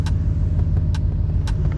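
Truck engine idling while parked with an enclosed trailer, a loud, steady low rumble with faint periodic clicks over the drone.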